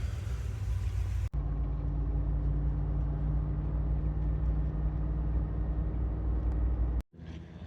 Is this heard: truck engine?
yes